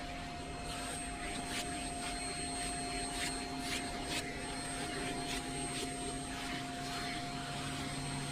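Vacuum cleaner running steadily over a miniature horse's coat, a constant whining drone heard close, with faint brushing and suction fluctuations as the nozzle moves along the hair.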